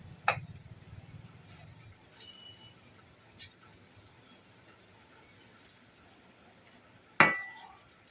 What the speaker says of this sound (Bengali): চিকেন দিয়ে দেবো ভালো করে এটাকে নেড়ে চেড়ে মাখিয়ে নেব